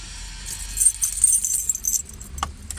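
Car keys for a Fiat Strada jingle and clink close by in a few shaky bursts, ending with a small metallic tap, while no one talks.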